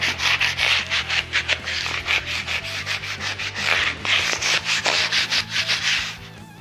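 A Telecaster guitar neck is hand-sanded with 1500 grit abrasive. The rubbing comes close up in quick back-and-forth strokes, a rhythmic scratchy swish repeating evenly throughout with no voices.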